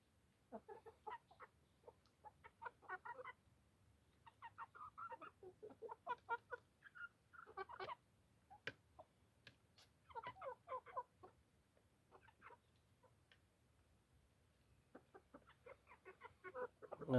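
Six-month-old chickens cluck and chatter in irregular bursts, close by, with short pauses between calls over a quiet background.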